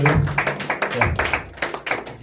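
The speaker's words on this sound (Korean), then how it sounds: "박수 한번 줍시다" A church congregation applauds, with a steady run of close, even claps lasting the whole moment and no voices over them.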